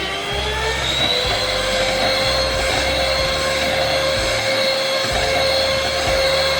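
An electric beater whips cream at full speed for a black forest cake, a loud, steady high-pitched motor whine with a low rumbling churn underneath that stays constant throughout.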